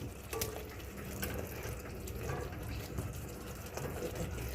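Water pours and gushes steadily into a pan of chicken gravy on the stove, a continuous splashing liquid flow heard up close.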